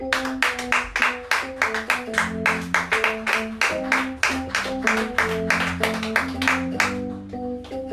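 A church congregation claps in a steady rhythmic beat for about eight seconds, sustained organ or keyboard chords ringing beneath the regular, fairly close hand claps.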